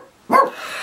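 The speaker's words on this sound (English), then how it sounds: "the dogs are going mad because people are walking right by their house." A dog in a house gives a single sharp bark at passers-by, close and loud after a moment of near silence, then a low lingering room tone.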